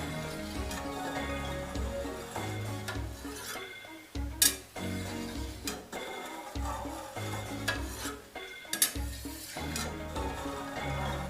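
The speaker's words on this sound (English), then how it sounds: "simply push the whisk up and down" A whisk pushed up and down through a vat of setting curd for Caerphilly cheese, giving a continuous wet sloshing and stirring with occasional metallic clinks against the pot, close by.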